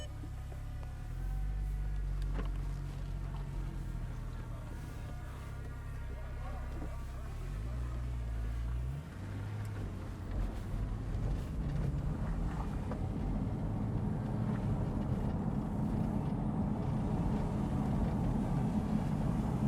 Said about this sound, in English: I'm going to first drive it in the standard mode, as you would expect.